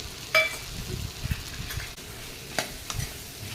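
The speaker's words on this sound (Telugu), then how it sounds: "ఈ పచ్చి కొబ్బరి కొంచెం వేడి కావాలండి కొంచెం లైట్గా పచ్చి వాసన పోయే వరకు లైట్గా ఫ్రై చేసుకుంటే సరిపోతుంది" Grated raw coconut frying lightly in a pan for a coconut tomato chutney, soft sizzling broken by a few sharp spoon clinks and scraping stirs close up.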